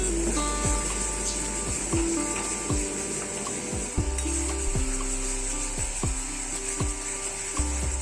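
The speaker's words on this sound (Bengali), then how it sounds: "আদা রসুন পেস্টটা দিয়ে এখানে ভালো করে কষে নিলাম।" Ginger-garlic paste and onions fry in a pan with a steady, close sizzle, while a spoon scrapes and stirs in repeated strokes across the metal; no one speaks.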